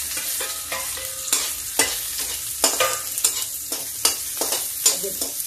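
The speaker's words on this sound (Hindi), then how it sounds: "अब इसमें डाल दिया प्याज" Onion fries in a pan with cumin and fenugreek greens, a close sizzle punctuated by repeated rhythmic scraping strokes of a spoon stirring.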